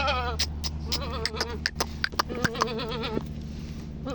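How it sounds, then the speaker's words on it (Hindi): A male goat bleats several times up close, its wavering, nasal cries coming in irregular bursts with short gaps, over a steady low background hum. "भाई ये बकरा है"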